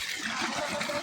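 Water gushes steadily from a broken pipe in a village field, a broad continuous rush lasting about a second with no voices over it.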